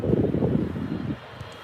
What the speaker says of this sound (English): we can finally see the Ryanair taxiing